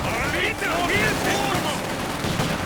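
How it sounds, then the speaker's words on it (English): DP machine guns firing from windows in the Company of Heroes 2 strategy game, a dense crackle of rapid gunfire bursts, steady and loud, beneath a caster's commentary. "DPs firing out of the windows."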